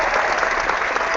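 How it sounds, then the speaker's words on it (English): A brief burst of applause sound effect played on a tabletop role-playing game stream, a steady, dense crowd clapping with no breaks. "a big round of applause to Chris and his fantastic campaign"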